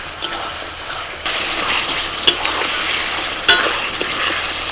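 Fried pointed gourd sizzles loudly in a pan with a spice paste of ginger, green chilli, coriander, cumin, Kashmiri chilli powder, salt and turmeric, a steady crackle broken by a few sharp scraping clatters from stirring.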